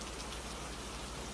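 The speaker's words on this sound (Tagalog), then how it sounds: "kapag sobrang lakas ng ulan." Heavy rain pours steadily, a dense, even hiss of drops hitting surfaces with a faint low patter underneath, close and constant with no voices.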